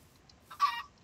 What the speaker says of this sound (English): Yay, chickens with diamonds.